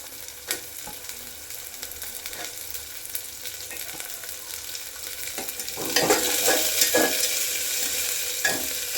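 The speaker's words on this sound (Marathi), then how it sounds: "चांगलं परतून घ्यायचं" Vegetables with onion and peas stirred and sautéed in oil for pulao rice, a steady sizzle with scraping stir strokes that grows louder and busier in the last few seconds.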